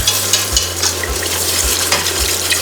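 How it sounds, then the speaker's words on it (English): Full cream milk being whisked into foamy melted butter in a pan for pumpkin and bacon mac and cheese, a steady close scraping stir with sizzling and regular low thumps of the whisk against the pan, no talking. "we can start to add our full cream milk straight into the pan and give it a good whisk as you're adding the milk"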